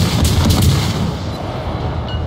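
Naval artillery fire in the video game World of Warships, a few heavy deep booms with rumbling low tails, loud and close, over a constant low background with no talk.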